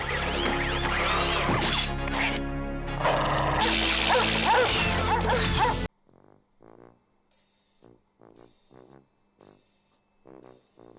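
Cartoon robot dogs bark and attack in a dense burst of loud yapping, barking and crashing over music for about six seconds, then quieter separate bark-like yelps follow in sparse clusters.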